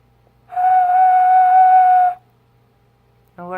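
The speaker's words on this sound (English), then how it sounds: "That's a whistle." One steady, clear whistle tone is blown for about a second and a half, then silence, with a brief voice at the end.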